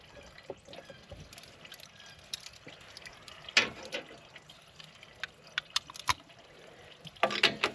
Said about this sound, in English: still got the oil and fuel draining